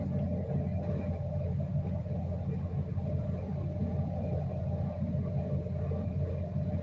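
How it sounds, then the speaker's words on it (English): A truck outside a home makes a faint, steady low rumble that hums continuously throughout, with no voices over it. "hearing a truck outside mine, and I didn't know what they were doing"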